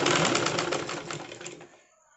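Sewing machine stitching a shirt collar, a close, fast rattling run of needle strokes that slows and fades out over about two seconds.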